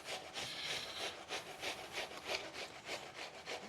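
A peeled yellow onion with the root left on being rubbed against a grater, a quiet, rhythmic rasping of steady back-and-forth strokes, close and alone.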